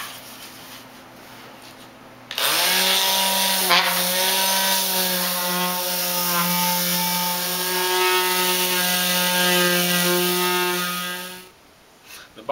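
A small wooden chest being smoothed with 240 grit sandpaper, a steady, loud, droning buzz that starts abruptly, holds for about nine seconds and then stops, with no talking.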